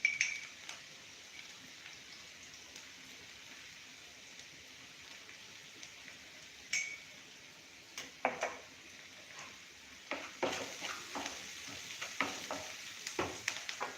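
Onions frying in a pan after salt is added, a faint sizzle that turns into sharper scraping and stirring bursts in the second half, heard close with no talking.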